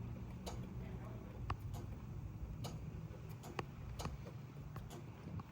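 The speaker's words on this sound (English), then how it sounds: "AC compressor clutch works." A 1969 Cadillac Eldorado's AC compressor clutch clicks faintly several times, sharp ticks at uneven intervals over a low hum while someone speaks nearby.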